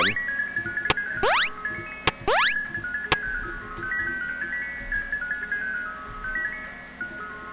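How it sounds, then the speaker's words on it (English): A doorbell in a Five Nights at Freddy's fan game, Chica's Secret Party, rings as a jingling chime with bright sweeping tones and sharp clicks, then fades into tinkling, ringing notes with no voices. "Still the doorbell, again."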